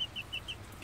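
A pet hen clucks in a short series of four quick, evenly spaced high calls, fairly faint and close, over a low background rumble.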